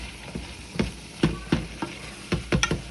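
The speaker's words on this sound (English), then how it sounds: "we're going to nicely saute that up in there" Vegetables sauté in a soup pot with a soft steady sizzle, punctuated by about eight irregular scraping and clanking stirring strokes against the pot, with no talking.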